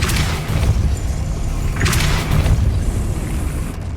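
Depulso spell in Hogwarts Legacy, a dull booming thump with rumbling low end, followed by a second burst and lingering magical rumble over game ambience.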